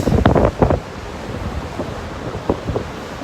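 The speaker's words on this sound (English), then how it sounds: "The waves are just incredible." Ocean waves surge and crash on a windy day by the shore, with heavy wind buffeting the microphone in loud gusts at the start before settling into a steady roar with occasional bursts.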